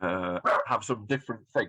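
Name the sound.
dog barking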